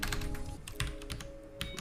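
Quick keystrokes on a computer keyboard while editing a configuration file in the nano text editor during an Arch Linux install, close and steady with no talking.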